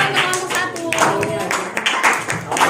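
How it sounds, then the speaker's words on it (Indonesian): A classroom audience claps for a presenting group, close and fairly loud irregular hand claps of a small crowd with some voices mixed in. "Tepuk tangan dulu untuk kelompok"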